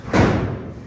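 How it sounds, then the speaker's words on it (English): A Camaro car door closes with a single solid thud, close and fairly loud, then fades quickly. "Once I get these started, I go ahead and close the door like this."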